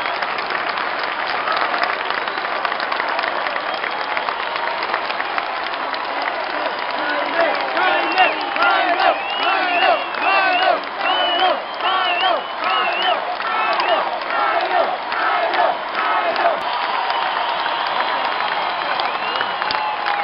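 Concert audience at a tribute in Cali applauding and cheering steadily, a dense wash of clapping with rising whoops and shouts in the middle, loud and continuous throughout.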